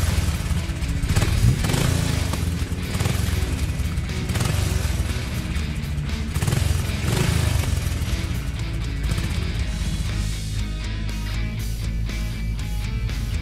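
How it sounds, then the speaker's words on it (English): A motorcycle engine runs steadily with a rough, rumbling low-frequency drone, fairly loud and continuous over thirteen seconds, with a few uneven surges and clattering bursts and no talking. "Motorcycle."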